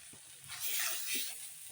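Spiced potatoes for an egg curry sizzling and frying in a pan, a steady hiss that rises as the food is stirred, with a few soft scrapes and a small clatter at the end, close and without talking.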